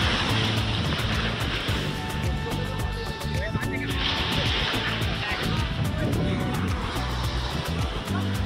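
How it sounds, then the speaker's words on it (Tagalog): Strong surf roars continuously at Dahican beach, Mati, Davao Oriental, a broad wash of crashing waves close by, with people talking over it throughout. "Malakas yung alon."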